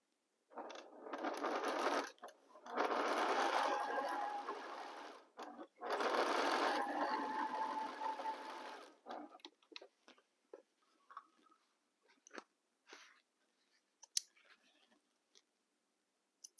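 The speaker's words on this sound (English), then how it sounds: "Let's organize my fabric. And start sewing." Sewing machine stitching fabric in three loud, close bursts of fast whirring, each a few seconds long, followed by scattered soft clicks and taps as the work is handled.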